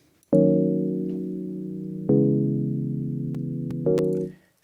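Three sustained Serum synth chords play in sequence, each starting with a bright attack that softens as it holds as the filter envelope closes, with faint clicks between them.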